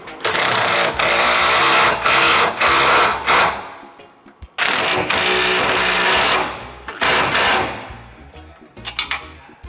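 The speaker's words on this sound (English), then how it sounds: "We'll bolt down our support piece. I'm using the 14 millimeter wrench and the socket." A 14 mm wrench and socket tighten a support bolt for a side step on a Mercedes Sprinter van, giving two long bursts of rapid, close ratcheting clicks separated by a brief pause.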